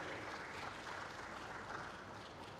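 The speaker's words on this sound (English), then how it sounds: "Let's clap for her and the team once again." A crowd claps steadily for an honoree and her team at a conference session, a dense, even wash of applause heard somewhat distantly at low level.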